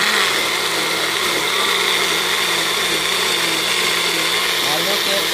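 A blender whirs continuously at high speed, a steady loud motor whine with a slight dip in pitch near the end.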